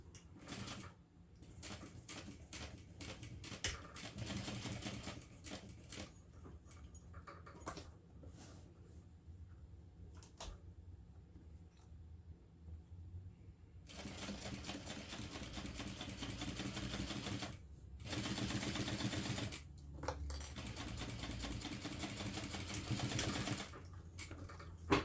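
Sewing machine stitching a strap connector on a bag, running in steady bursts with short pauses between, close and fairly loud, no talking.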